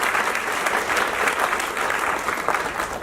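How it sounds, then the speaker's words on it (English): A crowd at a high school senior awards night applauds the graduates, a dense, even wash of clapping sustained for several seconds at moderate volume. "let's give you all a round of applause."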